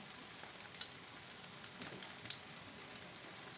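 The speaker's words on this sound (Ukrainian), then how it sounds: "А слідуючу будемо далі обкатувати і смажити" Flour-coated fish frying in a pan, a soft continuous sizzle with light crackling pops, close and fairly quiet, no voices.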